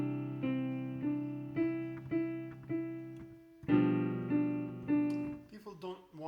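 A piano plays the simple tune of Merrily We Roll Along with melody and accompanying chords both struck loudly at forte, steady notes landing about every half second, with a brief pause before a louder second phrase.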